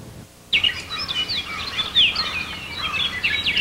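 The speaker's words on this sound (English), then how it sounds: "As you can hear, there's plenty of birds around." Birds chirp and sing steadily in a rural countryside setting, a busy mix of bright overlapping calls that begins abruptly after a short quiet gap and continues without pause.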